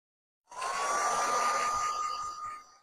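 A dryer switches on after a short silence and runs with a steady high whine and airy rush to dry paint on a wooden Santa wall decor craft, close and constant before easing slightly at the end.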